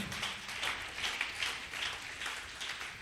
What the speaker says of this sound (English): Clap if you want to clap unto the Lord.